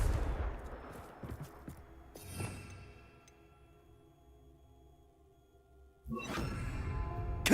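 Confringo fire-blast spells go off in the video game Hogwarts Legacy: a burst of crackling explosions, another whooshing blast a couple of seconds later, then quiet before a fresh loud blast near the end.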